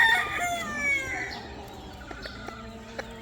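Boston 47 gamefowl rooster crowing, a drawn-out call in the first half followed by softer clucking and short calls, fairly near with no talking.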